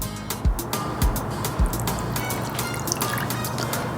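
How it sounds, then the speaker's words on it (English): Water trickles and drips into a hollow in the center of a mound of flour while making Trinidadian sada roti dough, with soft intermittent drips over a steady low background. "slowly add about a cup of water."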